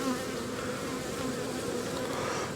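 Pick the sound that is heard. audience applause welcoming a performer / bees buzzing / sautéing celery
bees buzzing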